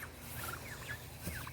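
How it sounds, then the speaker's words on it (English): Sweetgrass turkeys in a backyard garden gobbling, short faint warbling calls over a steady low background hum, heard at a moderate distance. "There's our sweetgrass turkeys."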